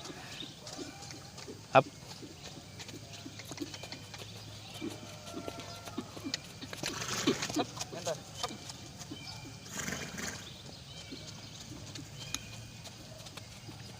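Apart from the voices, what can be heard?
horse cantering on a lunge line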